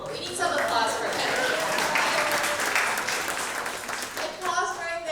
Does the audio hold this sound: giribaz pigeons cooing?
no